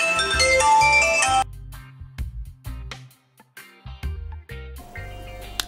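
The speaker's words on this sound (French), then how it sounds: "le téléphone est raccroché, on devrait plus être dérangé, j'espère, j'ai coupé la sonnerie" A telephone ringtone plays loud melodic tones for about a second and a half, then cuts off, leaving quieter, scattered indoor sounds.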